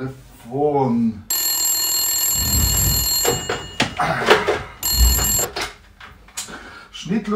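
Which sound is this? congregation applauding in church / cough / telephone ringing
telephone ringing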